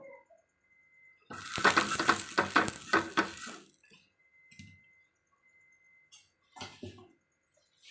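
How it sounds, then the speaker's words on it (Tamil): Vegetable uthapam dosa batter hitting a hot pan with onion, a burst of loud crackling sizzle that fades after a couple of seconds, followed by a few quieter scraping clicks. "இப்போ நாம் அடுத்தது பழையபடி என்ன பண்ண போகிறோம் இன்னொரு தோசை போட்டுக்க போகிறோம்"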